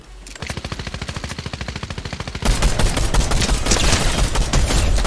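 Rapid gunfire in a battle-royale-style video game with a sniper involved. An even, fast string of shots lasts over two seconds, then gives way to a louder, denser wash of continuous firing and explosions.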